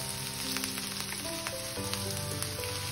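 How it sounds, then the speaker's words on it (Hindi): Galouti kebab patties fry in oil over a medium flame, giving a steady, close, continuous sizzle with light crackles throughout and no talking. "इसको हम मीडियम फ्लेम पर भी इसको फ्राई करेंगे"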